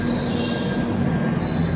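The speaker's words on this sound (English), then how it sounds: "the next train is literally pulling into the station" A London Underground train pulling into Angel station, its wheels squealing loudly and continuously against the rails as it brakes close by, with no voices.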